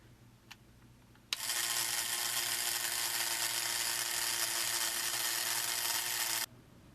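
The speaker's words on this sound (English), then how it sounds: "And these motors don't sound too good. They sound pretty chunky." Small electric motors from a 1984 Robotix R-1000 construction kit run in reverse, a sudden steady high whirring drone that holds for about five seconds and then cuts off.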